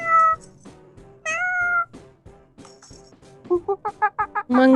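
A kitten meows several times, starting with a few longer rising and falling mews and then a quick run of short, high, close meows near the end.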